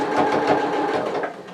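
A sewing machine stitches fabric for a vintage-style apron, a steady close whirring hum with a fast mechanical rhythm that runs unbroken, then eases slightly at the end.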